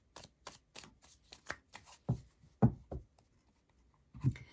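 Tarot cards being handled and drawn during a reading: a series of crisp paper slaps and riffles, several quick strokes followed by a few heavier, softer card placements, close and fairly quiet with no talking.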